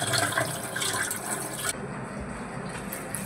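Water drains off soaked rice in a continuous splashing, gurgling stream that is close and moderately loud, then shifts to a lighter trickle partway through.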